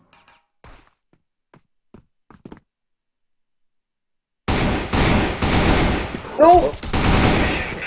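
Video game gunfire rattles in dense, loud bursts after a stretch of sparse quiet taps, with a voice shouting briefly amid the shooting.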